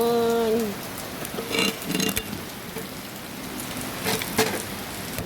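Rain patters steadily on a surface in a soft, continuous hiss, with a few louder splashy bursts and a brief tonal sound at the start.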